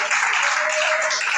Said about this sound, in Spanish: Dale ese aplauso al dueño del mensaje.